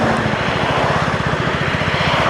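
A 2025 KTM 390 Enduro R single-cylinder motorcycle engine revving up from idle, its steady rapid pulsing loud and close, fitted with a Coober ECU LM fuel controller.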